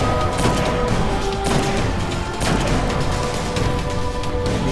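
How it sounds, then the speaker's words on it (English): Gunfire in the video game Destiny during a solo Nightfall run, several loud, sharp shots in quick bursts over a dense, continuous game soundscape. "Again, putting shots on him."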